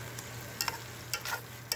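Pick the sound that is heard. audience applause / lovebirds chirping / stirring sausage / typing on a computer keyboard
stirring sausage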